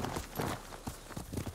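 Quick drumming hoofbeats of a horse galloping in the video game Ghost of Tsushima, brief and close, a rapid uneven clatter with no talking.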